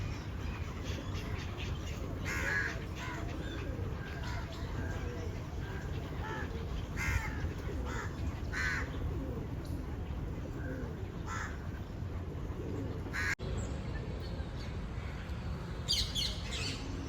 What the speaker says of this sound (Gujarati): દિવ્ય અલૌકિક પક્ષીઓ જો તાપી નદીમાં.